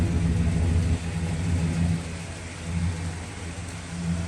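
A 1962 Pontiac Catalina with its original 389 Tri-Power engine gives off a steady, deep exhaust rumble at idle, with slight swells in volume, heard up close and with no talking.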